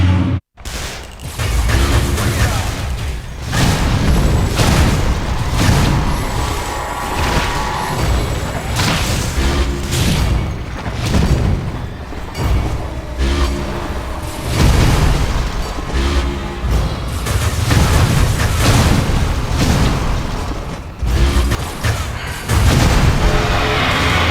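Relentless gunfire and booming explosions in the action game Metroid: Other M: loud, dense volleys of shots and deep blasts pound almost continuously, with brief surges and dips.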